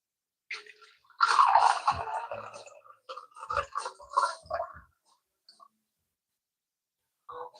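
Water is poured into a cooking pot heating on a high stove, splashing and gurgling up close in an uneven burst of a few seconds, with scattered clinks.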